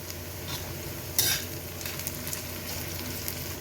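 Chopped onion and curry leaves sauté in a pan for kaleji fry, giving a steady close sizzle with a short sharp burst of spatter and a few soft utensil scrapes over the constant frying hiss.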